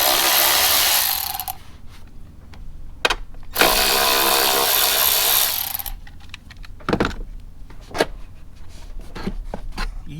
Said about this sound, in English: I'm gonna go grab the power ratchet and cheat